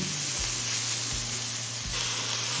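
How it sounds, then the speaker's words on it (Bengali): Eggplant fries in a pan, a loud steady hissing sizzle with a few soft low knocks of stirring, close and continuous with nobody talking. "বেগুনটা দিয়ে আরও তিন চার মিনিট ভেজে নিলাম"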